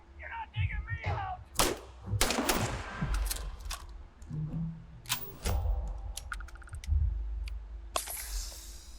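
Gunfire from a weapon in the Starfield video game, several sharp shots in irregular bursts among other game sounds, with a voice talking over parts.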